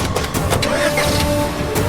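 An auto-rickshaw engine revs and pulls away in heavy traffic, a steady close mechanical drone with a whining tone holding throughout, no talk over it.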